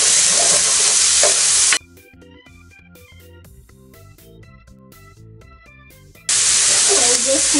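Minced garlic sautés in a pan for turkey and ground venison sausage chili, a loud, close sizzle that opens the clip, drops out under music in the middle and returns just as strong at the end.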